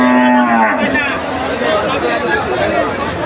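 A cow moos once, near and loud, at a busy Joypurhat cattle market before Eid, followed by crowd chatter and hubbub.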